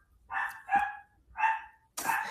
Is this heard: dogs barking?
yes